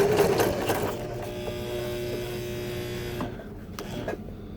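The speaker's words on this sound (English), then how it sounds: "the thread is looping around that as I sew" Sewing machine running basic stitches with thread looping around the bobbin, a steady close mechanical whir and buzz throughout that tapers off near the end, with no talking.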